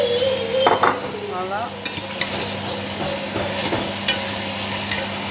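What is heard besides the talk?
meat and cabbage sautéing in a pan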